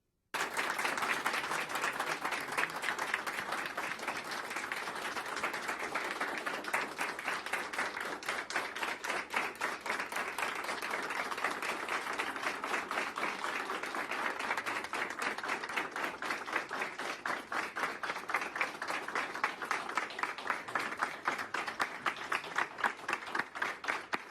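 Public health staff give a farewell round of applause for Dr. Plutarco Arias, a sustained, even clapping from a group that carries on steadily throughout, with no talk over it.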